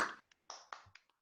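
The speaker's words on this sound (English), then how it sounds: "we would also like just to give a round of applause for our last" A few scattered hand claps at a panel forum, sparse and faint, a handful of separate claps over about a second rather than full applause.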